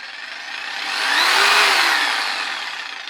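Bosch Easy PST 700 E electric jigsaw running with no cut, a loud steady whine that rises in speed toward the middle and then eases back down, close and alone.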